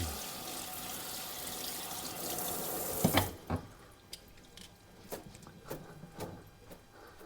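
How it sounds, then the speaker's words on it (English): Asparagus spears rinsed under a running kitchen tap: a steady rush of water for about three seconds, then the flow stops and a few scattered drips, knocks and splashes follow, fairly close. "Let's just wash these up a little bit."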